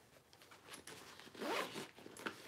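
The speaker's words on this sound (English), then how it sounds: "Nice zipper pocket on the front or the back, whichever you choose." The zipper on a purse's front pocket is pulled open close up, a quiet, raspy zip lasting a couple of seconds with small irregular tugs.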